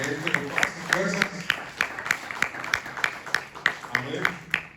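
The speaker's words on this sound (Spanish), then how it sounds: "Denle un aplauso al Señor en esta noche, mi hermano" A church congregation claps along in steady rhythmic applause, sharp regular claps repeating through the clip, with voices and talk running underneath.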